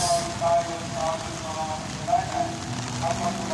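Heavy rain pours down during the 2025 Malolos Cathedral Marian Procession, a steady broadband hiss with scattered drop patter, while faint voices murmur underneath.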